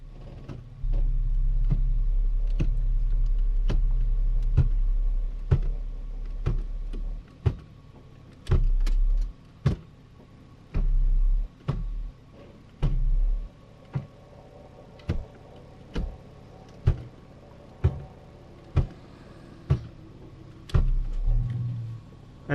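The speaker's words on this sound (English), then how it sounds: "so just gonna go through all the gears." A car at operating temperature runs with a low engine hum while the shifter is moved through all the gears, producing a series of sharp mechanical clicks at a steady rhythm.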